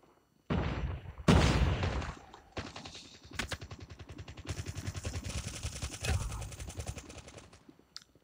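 Rapid bursts of automatic gunfire mixed with single loud shots in Call of Duty: Mobile, sustained and dense, with sharp game-like sound effects and no talking.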